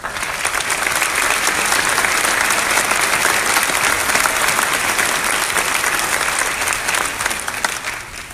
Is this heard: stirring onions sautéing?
no